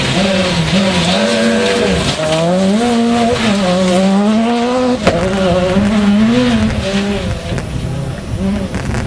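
A rally car's engine snarls continuously close by on a gravel stage at the Barbórka Rally in Bemowo, its pitch rising and falling as it shifts and swings through turns, with a rough gritty undertone.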